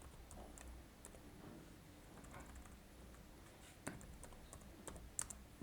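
Keys on a computer keyboard are typed, faint and sparse, with scattered soft clicks and a few sharper taps over a low background hum, and no one speaking.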